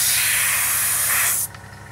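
A steady, loud airbrush or spray-can hiss as a coat of paint goes onto a Tamiya 1/48 Spitfire Mk.1 scale model, cutting off sharply near the end to a quieter room.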